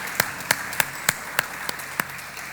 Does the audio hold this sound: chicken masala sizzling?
no